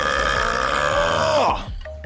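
One long, loud, drawn-out burp at close range, rumbling steadily before tapering off abruptly near the end.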